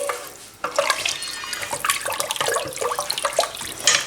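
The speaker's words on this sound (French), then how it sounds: "je vais rajouter de l'eau. Alors, je vais arroser." Water poured from a container into a pot of golden-browned onions while cooking chicken rechta, a steady splashing gush that runs for several seconds, close and clear with no talk.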